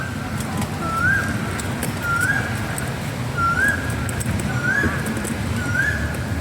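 Birds calling in a park full of trees: a repeated rising whistled call returns about every second against a busy outdoor background with faint murmuring.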